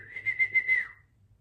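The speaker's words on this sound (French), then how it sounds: "je me fais siffler par les ouvriers" Construction workers give a short whistle from a moderate distance: four quick wavering pulses of one clear tone that fade out after about a second, against a quiet background.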